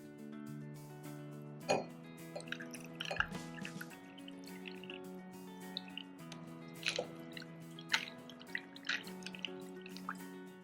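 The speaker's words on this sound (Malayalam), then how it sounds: "നമ്മൾ തയ്യാറാക്കി വെച്ചിരുന്ന ബ്ലാക്ക് ടീ ചൂടാറിയ ശേഷം ഇതിലേക്ക് ഒഴിക്കുക" Cooled black tea trickles into glasses while iced tea is being made, a faint liquid pour with scattered drips and small splashes, heard under soft background music.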